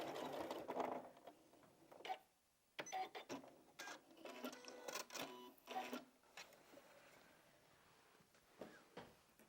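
A sewing machine stitches a quilted strippy bag, running forward and then in reverse. Short mechanical bursts of stitching start and stop with brief pauses, quiet and close, and no one speaks.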